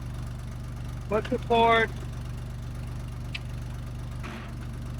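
A 1970s bulldozer engine idles in a low, steady drone close by, while people talk briefly over it.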